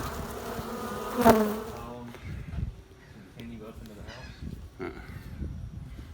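Honeybees buzzing close by as they fly in and land carrying yellow pollen on their legs, a steady hum with a brief louder swell as one passes near, soft rustling behind.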